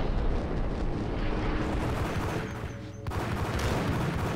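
Sustained gunfire from enemy goons in the Max Payne video game, a dense, rumbling barrage of shots that stays loud and continuous with a brief dip near the middle.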